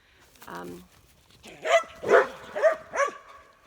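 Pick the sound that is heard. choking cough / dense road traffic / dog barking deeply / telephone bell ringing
dog barking deeply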